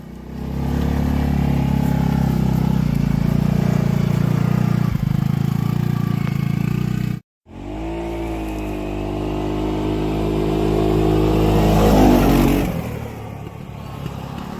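A Segway Snarler AT6 SX 4x4 ATV engine runs steadily in four-wheel drive, a loud, close, continuous drone that cuts out briefly, then picks up again and rises as it revs harder, with no talking.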